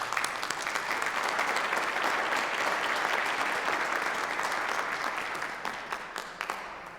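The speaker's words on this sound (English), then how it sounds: "Again, another round of applause." A medical school commencement crowd claps steadily in a large hall, a broad, even wash of applause that slowly fades toward the end.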